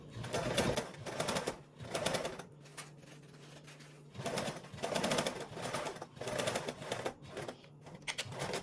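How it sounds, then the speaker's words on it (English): Sewing machine stitching over a drawstring casing seam, running in several quick rhythmic bursts separated by short pauses with a low hum, loud and close. "So you're gonna sew over that opening, or sew over that seam."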